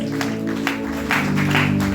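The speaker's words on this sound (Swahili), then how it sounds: "Shangilie Bwana kwa makofi." A church congregation claps along in praise during a Swahili sermon, a dense steady patter of many hands under sustained music tones, growing slightly louder toward the end.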